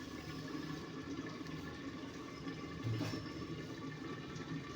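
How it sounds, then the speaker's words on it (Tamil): Tamarind water poured into a cooking pan, a steady liquid pouring and splashing sound throughout, close and fairly continuous with no talking. "கொஞ்சம் அதில் புளி ஊற்றிக்குவேன்"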